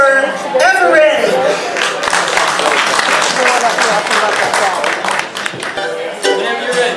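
Festival audience at the Augusta Heritage Festival applauds a bluegrass band. Clapping and cheering come loud and close and stay sustained, with voices mixed into the crowd noise.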